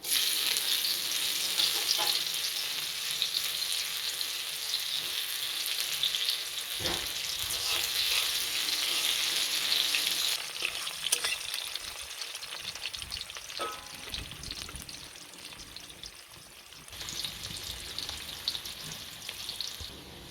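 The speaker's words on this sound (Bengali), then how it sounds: "এবার পেঁয়াজ কুচিটা এর সাথে দিয়ে ভেজে নেব।" Chopped raw onion frying in a pan for milk chicken, giving a continuous close sizzle with occasional stirring scrapes and clinks, alone without any voices.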